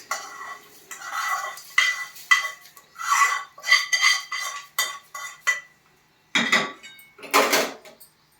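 Crunchy tempering is stirred into mango pulihora (tangy mango rice) with a spoon in a metal vessel. Close, rhythmic scraping and clinking strokes come in bursts separated by short pauses, with no talking.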